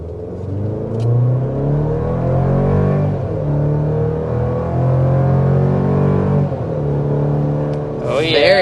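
2025 Chevy Colorado pickup with the high-output engine accelerating up a steep hill, a loud, close engine note climbing in pitch through gear changes, with faint voices briefly over the drive.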